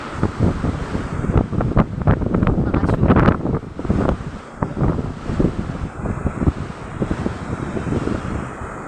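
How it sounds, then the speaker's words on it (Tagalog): Large sea waves crash and surge against shoreline rocks in a continuous, loud roar with heavy wind buffeting on the microphone throughout. "Hinahampas-hampas ito ng malalaking alon."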